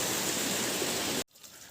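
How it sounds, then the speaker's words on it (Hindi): Steady rain falls over a hillside forest recently burned by fire, a dense, even hiss that cuts off abruptly near the end, leaving faint background noise. "अभी जो है बारिश हो रही है"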